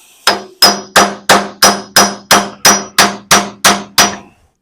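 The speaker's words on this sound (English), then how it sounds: "Be careful about pounding on that cross slide too much." A hammer pounds a seized compound slide on a metal lathe, with eleven evenly spaced, loud, ringing metallic strikes in steady rhythm, then the sound stops.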